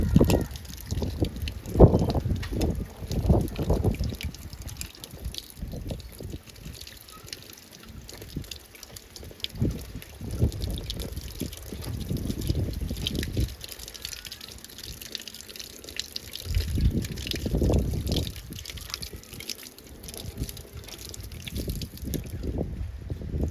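Black Lace elder (Sambucus nigra) cuttings are rinsed under running water, giving a steady splashing trickle with uneven surges and drips throughout, fairly close and alone without talk.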